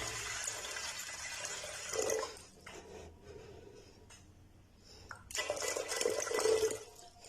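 Water splashes and pours into a metal pot for steaming chicken, in two bursts with a quieter pause between, close and clattery.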